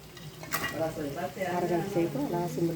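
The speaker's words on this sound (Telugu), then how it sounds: "ఆ గ్రేవీ మగ్గిన తర్వాత పీతలు వేసేయండి" Crabs going into a pot of simmering curry gravy: a clatter as they drop in, then stirring and sizzling with scraping against the pan, close and moderately loud.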